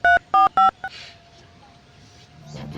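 Three loud, evenly spaced touch-tone beeps ring out as a mobile phone number is dialed, followed by a faint steady tone and quiet room noise.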